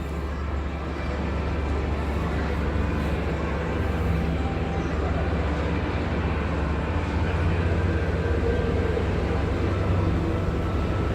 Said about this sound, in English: I love this shot of the monorail here,